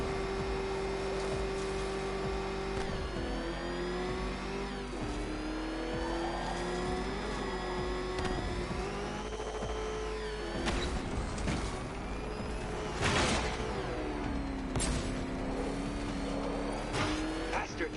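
The Batmobile's engine roars steadily in Batman: Arkham Knight, a sustained whining drone that rises and dips with acceleration, with sharp impacts and skids later on, while a voice talks over it.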